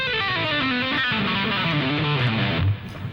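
A distorted electric guitar plays a rapid legato line without palm muting, the notes ringing together into a looser, noisier wash that cuts off abruptly near the end.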